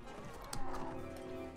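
Cavalry horses galloping in the video game Mount & Blade: Warband, faint clip-clopping hoofbeats under a low battlefield bed, with one brief louder thud partway through and no voices.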